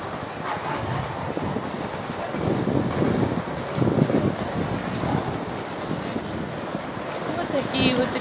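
Gusty wind on a shopping street in Vienna, Austria, buffets the microphone in uneven bursts, with a broad rushing roar rising and falling throughout.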